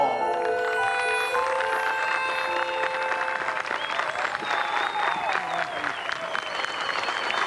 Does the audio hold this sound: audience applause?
yes